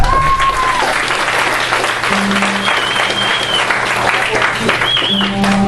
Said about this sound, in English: I want y'all to give him a round of applause